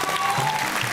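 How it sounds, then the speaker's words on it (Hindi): A crowd claps steadily and densely throughout, a full wash of applause heard close. "और तुक तुक ताली बजाओ।"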